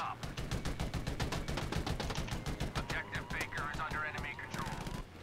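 Gunfire in the World War II shooter Battlefield V, rapid automatic bursts crackling almost nonstop, with a voice talking over the shooting partway through.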